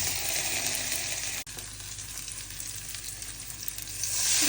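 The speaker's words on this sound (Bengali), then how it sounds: "আলুটা এখন একটু ভেজে নিব" Potatoes frying in hot oil after fish has been fried in it, a steady loud sizzle throughout with a brief sharp clink partway through and no talking.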